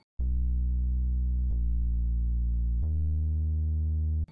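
A clean, undistorted sub-bass sine tone for an Afrobeat track, three long sustained notes at steady loudness that shift pitch, deep and smooth with no other sounds.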